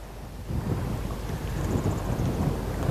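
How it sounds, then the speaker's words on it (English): Strong wind buffets the microphone on a lake bank, a continuous roaring rumble that swells louder after the first half second and stays steady, with no voices. "Wind's blowing quite strong today."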